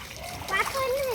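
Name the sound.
children splashing in water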